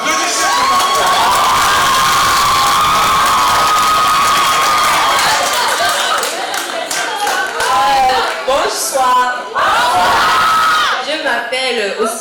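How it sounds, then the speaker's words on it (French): Loud audience at a school theatre contest final applauds and cheers for a girl coming up to perform, with whoops, shouts and a sustained high-pitched cry over rapid clapping, and voices calling out across the crowd. "Applaudissez pour mademoiselle."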